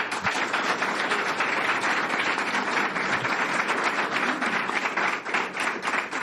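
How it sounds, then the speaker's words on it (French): A conference audience in Abidjan applauds, a fairly quiet, steady wash of many hands clapping at some distance, continuing evenly throughout. "Si vous êtes d'accord avec ça, je vous applaudir."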